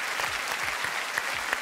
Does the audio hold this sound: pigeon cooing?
no